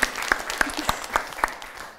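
Sparse, crisp hand claps ring out in a short, uneven run, each clap sharp and moderately close, with light background noise between them and no talking.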